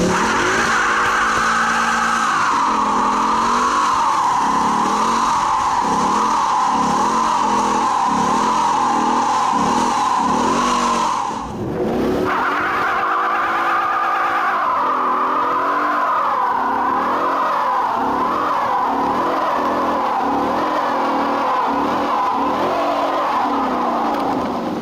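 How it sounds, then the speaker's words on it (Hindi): A Ford Mustang GT does a line lock burnout with its rear wheels spinning. Engine roar and shrill tire squeal hold loud and close for the whole time, with a brief dip near the middle before the burnout surges again. "जैसे ही गियर में डालेंगे अगर हम कार को, तो लाइन लॉक हो जाएगा और व्हील स्पिन करने लगेंगे।"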